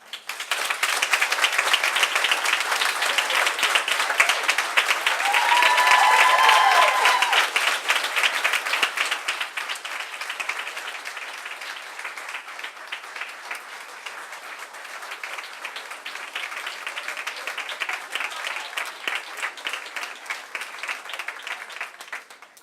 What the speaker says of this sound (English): please give a round of applause to Dr. Alex Harris.